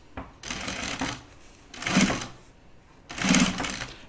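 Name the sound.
sewing machine stitching binding on project bag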